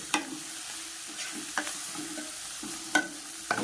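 Dried fish (karuvadu) frying in a pan gives a low, steady sizzle, with a few distinct stirring scrapes and taps of the spoon against the pan at irregular intervals.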